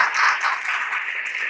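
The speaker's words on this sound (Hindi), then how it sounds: "तमाम तालियों को बजाकर परमेश्वर का धन्यवाद करें" Worshippers at a Hindi church service clap together in thanks to God, a brief, continuous wash of many hands close by at moderate loudness.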